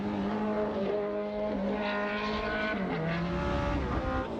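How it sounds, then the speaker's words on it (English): A racing car at Silverstone powers through a slide, its engine note bending and rising under a high tyre squeal, steady and loud throughout with no talk. "a little bit of power slide there"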